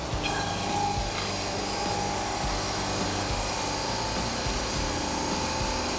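A Hud-son hydraulic lumber edger running steadily as its saw cuts a 1x4 board, a loud continuous machine whine with low mechanical rumble throughout, no talking.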